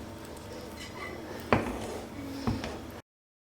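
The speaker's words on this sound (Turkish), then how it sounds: "Şimdi ocağın altını artık kapatıp 2-3 dakika boyunca sürekli karıştırıyorum." Metal spoon scraping and knocking against a pot of cream stirred off the heat, with a steady low kitchen background and two sharper clinks standing out.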